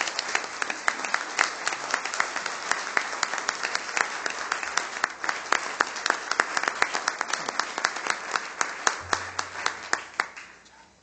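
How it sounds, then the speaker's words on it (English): A room of people at a city council meeting applauds an Educator of the Year honoree, steady clapping running for about ten seconds before thinning out and fading. "please join me in giving Bernie a big round of applause for Educator of the Year for Rock Island"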